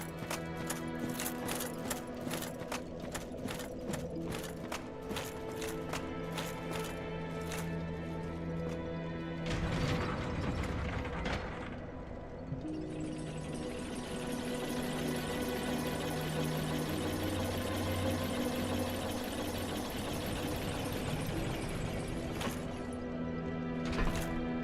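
A video game elevator rides down, mechanical rattling and rhythmic clacks giving way to a steady hum and whirr, with a brief louder clunk midway.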